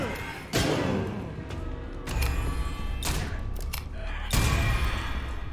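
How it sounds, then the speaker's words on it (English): Secondary attack shots in the game Curse of the Dead Gods, a few sharp, loud bursts spaced about a second apart over a dense rumble of battle effects, close and punchy. "they want us to use my secondary attack to shoot"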